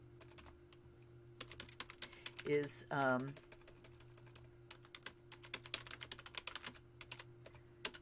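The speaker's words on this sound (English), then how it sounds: "I'm typing it in" Computer keyboard keys clatter in quick, irregular bursts of soft taps, close but quiet, with a brief spoken word partway through.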